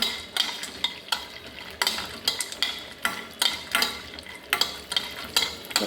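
Almonds and pistachios fry and get stirred in a pan, a steady sizzle broken by repeated scraping strokes at an even rhythm, close and fairly loud with no voices.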